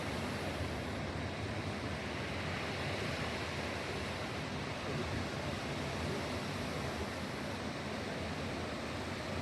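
Rough waves of the Pacific Ocean roar in a constant, broad wash of surf, steady and loud with no speech.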